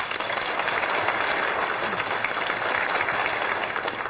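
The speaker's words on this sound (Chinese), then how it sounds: "掌声欢迎。" Wedding guests applaud the groom as he is introduced. Thick, continuous clapping from a large crowd fills the room at an even, loud level throughout.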